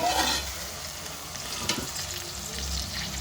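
Onion paste frying in a pan gives a steady, close sizzle with soft stirring scrapes and one louder scrape midway, and no one speaks.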